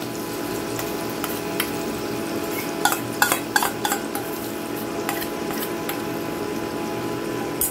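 Ground lentil paste is added to hot oil with ginger and green chili in a pan over low heat. A steady soft sizzle and hiss runs under scattered clinks and scrapes of a stirring utensil.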